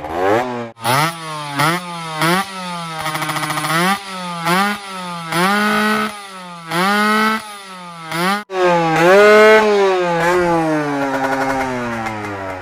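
A Yamaha MX King two-stroke motorcycle engine revs in a string of short, buzzy, rising bursts with gaps between them, then holds one long high-pitched blip. It is loud and close, with no talking.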